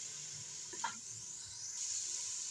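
Chicken pieces frying in ginger garlic paste in a pan give a steady close sizzle, with a brief stir or clatter near the middle and the sizzle growing slightly louder toward the end.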